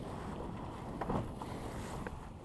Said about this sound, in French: On va vite là, il y a des vagues.